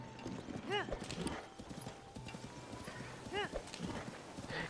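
Hooves clip-clop in a quick rhythm while a horse whinnies twice in the video game The Legend of Zelda: Tears of the Kingdom, with a person talking over the galloping.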